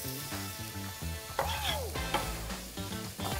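Onion sizzling in a hot frying pan while fish curry is being cooked, a soft steady fry heard faintly beneath louder background music.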